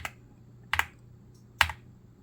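Three separate, crisp clacks from a custom GMK67 mechanical keyboard with Ink Landscape keycaps are heard up close against a quiet low hum, each one sharp and short with short gaps between.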